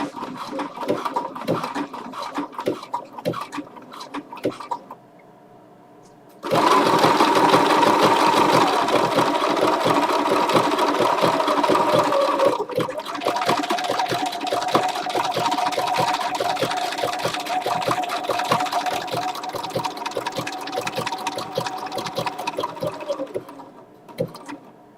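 A Bernina sewing machine fitted with a size 90 topstitch needle runs in long, steady stitching bursts with a fast, even mechanical whir. A brief pause comes early, then near-continuous sewing follows, close and loud.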